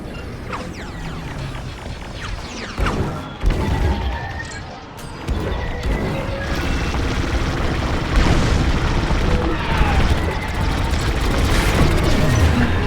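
A destroyed capital-ship shield dish explodes in the Star Wars: Squadrons campaign, a dense roaring crash amid constant space-battle noise, with sharp booms near three and eight seconds and sustained rumbling debris throughout.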